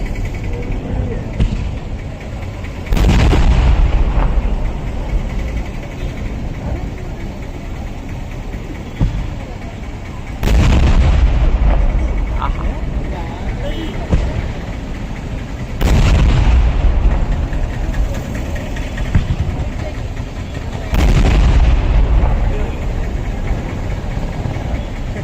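Temple fireworks (vedikkettu) at Puthiyakavu temple: four heavy booming blasts spaced several seconds apart over a constant crowd rumble, loud and reverberant from an open-air festival ground.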